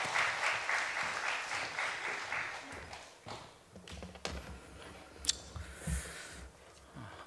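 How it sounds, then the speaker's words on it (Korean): A church congregation at a Holy Week special dawn prayer service claps to welcome the pastor, a brisk burst of applause that thins into scattered, uneven claps and a few taps before trailing off. "박수로 목사님 맞이하겠습니다"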